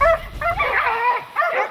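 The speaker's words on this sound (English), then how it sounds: "The dogs hurriedly surround the tusker and block his retreat towards the blackberries." Near, loud barking and yelping of hunting dogs surrounding a wild boar tusker by blackberry brambles, a few sharp overlapping barks in bursts with brief gaps between them.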